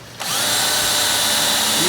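An electric drill drives in while a new cooling fan goes onto a 1947 Ford hot rod, starting abruptly and then whirring loudly and steadily up close.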